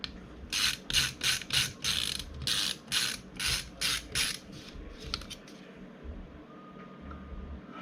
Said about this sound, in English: we will screw it back into the plate